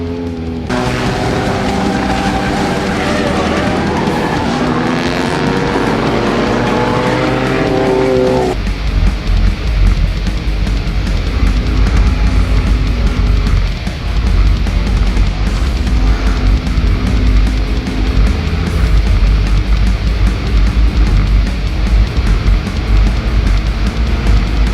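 Race car running at full throttle in a tight pack during a skid plate race: a whining engine drone at first, then a loud, continuous roar that fills the whole stretch with no talking.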